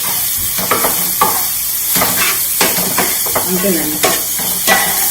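Nellore fish curry masala fries in oil in a pan with a continuous close hiss and sizzle, interrupted by intermittent stirring scrapes, while a person talks over it.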